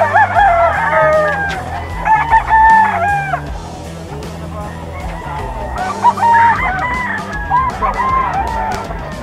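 Young roosters (stags) crowing at a pet market, several loud drawn-out crows overlapping in bursts with honking and clucking fowl around them, a dense bird chorus with no talk.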